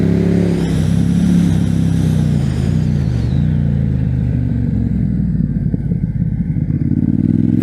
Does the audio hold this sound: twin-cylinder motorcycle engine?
yes